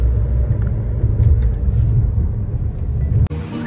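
A car on the road gives a steady low engine rumble with road noise that holds throughout and dips briefly near the end. No one speaks.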